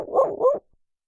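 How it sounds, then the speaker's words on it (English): A puppy barking sound effect played over a stream: two quick close yaps in half a second, then silence. "Let me get that puppy noise up."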